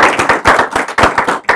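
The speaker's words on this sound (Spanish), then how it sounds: "Vamos a dar un aplauso, por favor." Audience applause at the close of a Spanish-language talk on international information exchange: sharp, bursty clapping in uneven waves, fairly close and loud, with no talk over it.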